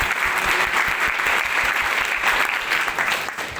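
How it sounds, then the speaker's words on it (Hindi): Loud, dense applause from a large seminar audience, continuous clapping of many hands with faint crowd noise mixed in, steady throughout and easing slightly at the end. "मैं चाहूंगा एक बार उनके लिए भी जोरदार तालियां"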